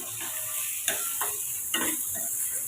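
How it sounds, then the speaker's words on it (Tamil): Poha (flattened rice) and capsicum being stirred with salt in a pan for a lunch-box dish, a soft steady sizzle with a few louder scraping stir strokes, no talking. "இப்போ அவளுக்கு தேவையான உப்பு சேர்த்துக்கோங்க இப்போ கலந்து விட்டுக்கலாம்"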